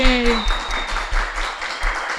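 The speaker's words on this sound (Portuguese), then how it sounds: "Uma salva de palmas, gente!" Brief applause follows in a Portuguese-language talk show setting, with light clapping heard under and around speaking voices.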